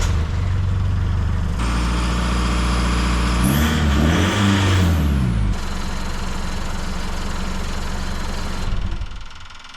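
Toyota 60 Series LandCruiser engine fitted with a new DIY exhaust, idling loudly up close and then revved hard in a few rising and falling bursts before settling back to a steady idle, with no talking.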